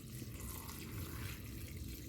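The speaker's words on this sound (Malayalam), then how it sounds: "ഇനി ഇതിലേക്ക് വെള്ളം ഒഴിച്ചു കൊടുക്കണം." Water pours steadily into a pot of bananas for banana syrup, a soft continuous splashing and trickle with no voices.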